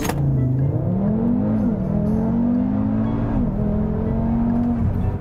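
A tuned car launches and accelerates hard, its engine note climbing through the revs with brief dips at gear shifts, loud, close and sustained with no talking over it.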